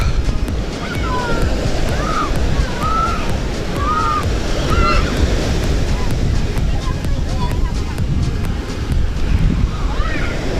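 Continuous rushing surf and breaking waves fill the scene, with wind buffeting the microphone and distant bird calls above the roar.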